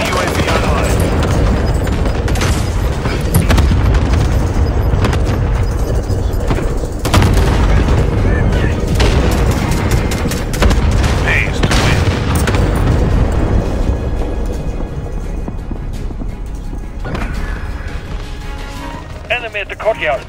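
Cluster strike explosions and gunfire in a combat video game, rapid booming impacts and bursts of shots rolling continuously, loud and dense, with game voice lines over the barrage before it thins out toward the end.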